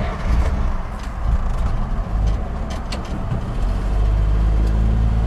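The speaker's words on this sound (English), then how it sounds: "for a ride in this lovely vehicle with original petrol engine." A Volvo TP 21 military four-wheel-drive vehicle with its original petrol engine drives on a spring day outdoors, giving a steady, loud, low engine drone with slight swells in revving and no talk.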